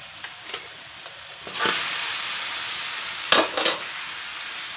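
Pre-blanched dory fish goes into a pan of sizzling shallots and garlic: a soft background fry swells into a loud hissing sizzle, with sharp bursts of crackle as the pieces are stirred and spread, close and loud.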